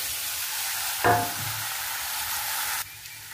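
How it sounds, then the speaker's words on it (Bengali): Taro stems frying in oil in a pan produce a steady sizzle, with a brief louder burst of stirring near the start before the sizzle drops away abruptly toward the end. "এখন এটাকে হালকা আছে ভাজতে থাকবো"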